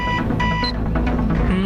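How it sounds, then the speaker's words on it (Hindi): An alarm beeps repeatedly inside a cartoon pilot's cockpit, short electronic tones pulsing over a steady busy background of engine hum and music, fairly loud throughout. "क्या तुम इस अलार्म को बंद नहीं कर सकते?"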